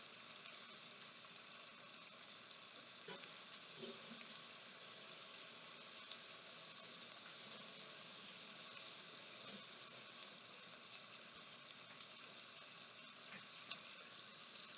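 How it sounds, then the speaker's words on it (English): A kitchen tap runs steadily while hands are washed under the stream, a constant close hiss of water with faint splashing, no talking. "I'm going to wash my hands a minute."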